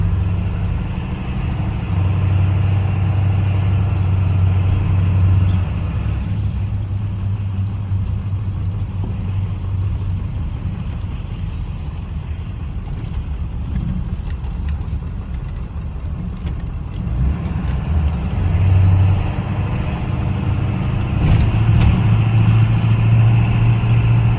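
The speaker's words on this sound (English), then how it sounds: "Drive down Main Street here." A car rolls down the main street of a small bluffs town, giving a steady close engine rumble and road drone throughout, with faint rattles and no talk.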